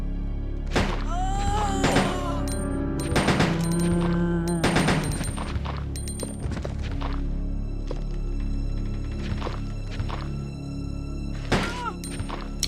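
Gunfire in the Resident Evil 2 video game: several sharp shots scattered through the clip, some in quick bursts, over a steady game background with brief voice sounds in between.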